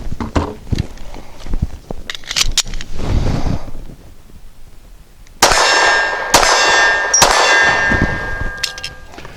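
A Walther CCP M2 pistol fires Winchester Super Clean 90 grain rounds at steel targets: sharp shots ring out, each followed by a bright metallic clang and lingering ding, in an irregular series of several hits.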